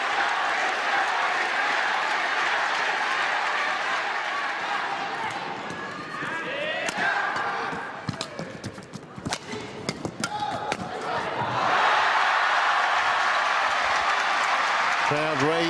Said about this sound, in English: Crowd raised the decibel count even more